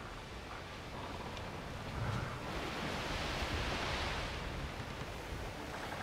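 Waves rolling on open sea in the pirate game Tortuga: A Pirate's Tale, a steady broad wash of surf and wind that swells slightly midway and holds at a moderate, even level throughout with no talk.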